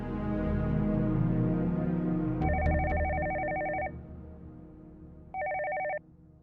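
A telephone rings indoors in a drama scene, with an electronic ring of two tones that lasts over a second, then a pause and a second, shorter ring, heard at moderate volume over low room noise.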